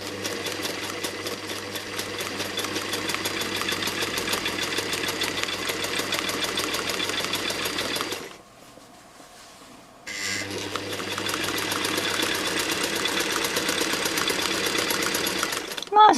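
A domestic sewing machine stitches a quilt in a fast, steady mechanical whir, stopping for about two seconds midway before resuming at the same even pace, with a voice talking over it.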